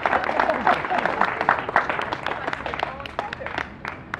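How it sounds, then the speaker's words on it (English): An audience claps for Flora B. as she is called up, a lively burst of applause mixed with cheering voices and chatter throughout. "Ladies and gentlemen, please, a round of applause to Flora B."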